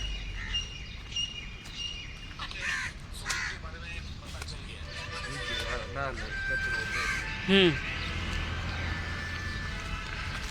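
Crows cawing along a street in Gandhidham, with several harsh caws rising over steady traffic and street noise while a person talks nearby.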